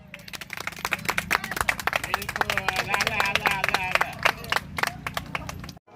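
A small crowd claps for a young varkari pilgrim on the palkhi route toward Shegaon, a dense burst of hand claps running throughout with voices talking over it.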